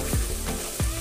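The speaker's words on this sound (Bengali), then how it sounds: "লাল করে ভেজে নেব।" Onion frying in oil with garlic paste for a spicy Bengali katla fish head curry, a dense close sizzle broken by three quick stirring scrapes, no voices.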